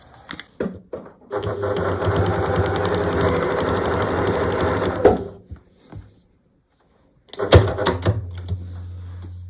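Sewing machine stitching paper-pieced quilt pieces, a steady fast mechanical whir running for several seconds, followed by clicks and handling noises, a pause, and a second short burst of stitching, close and clear.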